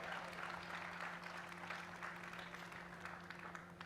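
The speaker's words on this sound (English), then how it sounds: "Somebody applauded over there, so that means the rest of you have to as well" Steady applause from an audience at the Reason Rally 2016, a continuous dense patter of clapping heard from some distance, with a low hum beneath it.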